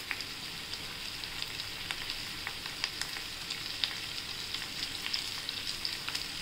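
Food sautés in a pan with a constant crackling sizzle, scattered sharp pops and light stirring ticks over an even, close hiss and no talk.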